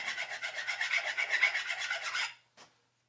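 A hand file rasps over the corners of a steel steering shaft extension in back-and-forth strokes, close and steady, ending with a brief final scrape.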